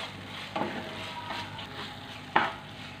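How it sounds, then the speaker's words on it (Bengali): A spoon stirs sugar into chilli chicken gravy in a pan, giving a faint steady sizzle with a few soft scraping strokes, two sharper clinks standing out near the start and later on. "চিনি দিয়ে আমি একটু মিশিয়ে নিলাম।"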